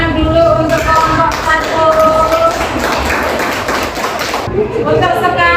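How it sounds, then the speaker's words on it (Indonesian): Elementary schoolchildren in an Indonesian classroom clap for a student group, the steady patter of many hands mixed with loud children's voices throughout, then tapering near the end. "Tepuk tangan dulu untuk kelompok"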